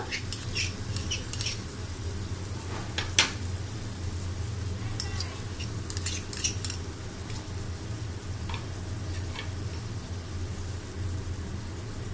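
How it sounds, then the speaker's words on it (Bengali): Beef liver sizzles and fries in a pan as ground spices are added one by one, giving a steady close crackle with scattered sharp pops and clicks of stirring throughout, and no talking. "এখন আমি একে একে আমার যে মশলাগুলো ছিল সবগুলো দিয়ে দিচ্ছি।"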